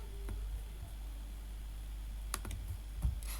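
A computer keyboard types out JavaScript code in a few sparse, quiet clicks and short bursts over a low, steady background hiss.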